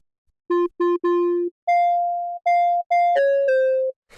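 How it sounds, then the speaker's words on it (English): A bright sine-wave synth plays a short arpeggio of plucky, pure-toned notes with quick attacks, clean and isolated with echo and reverb off, each note ringing briefly before the next. "it's kind of like a short type of plucky sound"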